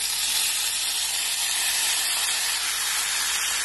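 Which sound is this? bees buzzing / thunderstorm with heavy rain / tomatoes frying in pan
tomatoes frying in pan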